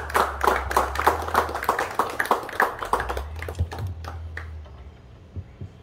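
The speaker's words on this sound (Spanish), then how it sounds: "Pido para ellos un fuerte aplauso para el colectivo Voces Chalatecas." Audience applause at a poetry recital, a dense burst of hand claps from a seated crowd that swells for a few seconds, briefly thins, then tapers into scattered claps and quiet.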